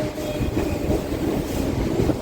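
A MEMU passenger train runs on rails between Machilipatnam and Vijayawada, giving a steady loud rumble with a continuous low roar and faint rhythmic rattling throughout, no voices.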